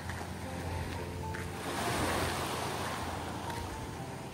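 Ocean waves at Turi Beach Resort near Nongsa Point Marina wash steadily onto the seafront, a continuous hiss of surf that swells slightly midway, with a faint wind rumble and no talk.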